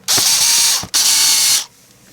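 Two close, quick bursts of a ratchet tool clicking as screws are driven into a DeLorean's Euro-style license plate bezel, separated by a brief pause, then quiet.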